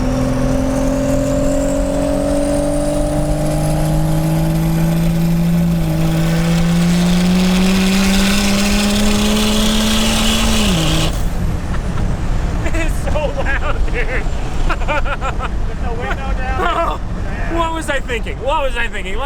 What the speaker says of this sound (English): You hear so much turbo, it's ridiculous.